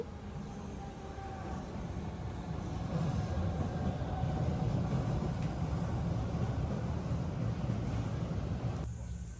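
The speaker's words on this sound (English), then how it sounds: "this is me going to use a city train system." Riding a city train in Manila: a continuous low rumble and rattle of the carriage, steady and fairly loud, lasting the whole time.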